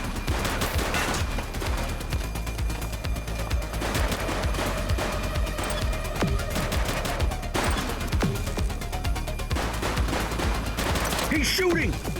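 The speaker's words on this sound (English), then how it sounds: "We're downtown where police are engaged in a fierce shootout following yet another bank robbery." Gunfire rings out in a downtown shootout after a bank robbery in a police video game, with dense bursts of rapid automatic fire and scattered single shots running throughout, loud and close, with game voices talking between volleys.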